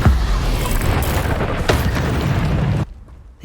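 A Confringo fire spell blasts in Hogwarts Legacy with a loud, close boom followed by a crackling, rumbling burst that cuts off abruptly, leaving a few faint thuds.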